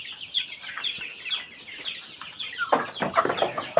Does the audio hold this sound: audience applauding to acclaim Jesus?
no